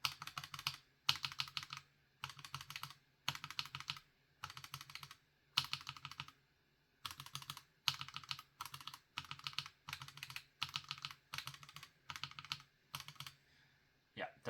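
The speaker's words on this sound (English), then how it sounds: "Yeah, definitely very different sounding switches." Keys typed on Gateron G Pro 3.0 and JWK mechanical switches, heard as bursts of quick, crisp clacks in short runs separated by brief pauses, close and clear with no talking.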